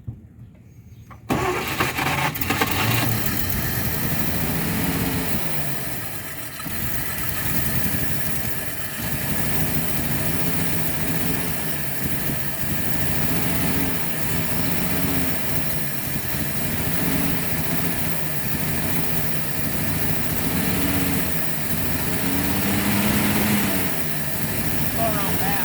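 Old car carburetor engine, off the road for 55 years, cranking and firing up, then running roughly and continuously with uneven pulsing revs, loud and close throughout.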